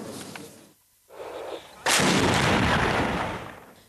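Artillery fire during fighting in Syria: a dull boom and a short burst of noise, then a massive, close blast whose roar rolls on for about two seconds before slowly fading.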